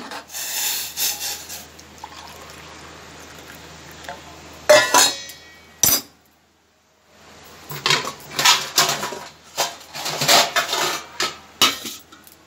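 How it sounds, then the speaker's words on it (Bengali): A pot of water set on a gas stove in a home kitchen, heard as loud metallic clanks and clinks of pot and utensils in bursts, with a brief silent gap midway and no talk. "এখন গরম জলটা বসাবো।"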